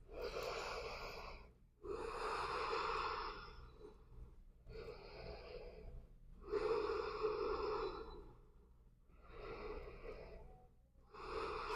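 Slow, deep breaths taken while hanging in a standing yoga forward fold with the knees bent and the elbows grasped. About five long, airy inhale and exhale cycles are heard close and alone.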